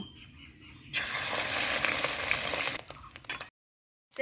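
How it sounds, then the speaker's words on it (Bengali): Mashed fish roe hits smoking hot mustard oil and bursts into a loud, dense sizzle that holds for about two seconds, then breaks into sputtering crackles before cutting off; no voices. "ফাটানো ডিমটা আমি যে চটকে মেখে রেখেছি, সেই ডিমটা বেশ কিছুটা এইখানে তেলে দিয়ে দিব"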